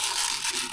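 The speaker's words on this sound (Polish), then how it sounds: "Kładę na papier ścierny i staram się takimi ósemeczkami" Copper washer rubbed in figure-eight strokes on sandpaper, producing a continuous, close, dry gritty scraping hiss with slight rhythmic swells and no speech.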